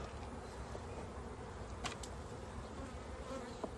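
Honey bees buzz steadily around a hive whose new queen has been accepted, a dense, continuous hum at close range with no talking.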